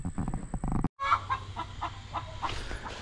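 Chickens cluck around a farm hut in a steady run of short, close calls, with a brief silent gap near the start and a low background hum underneath.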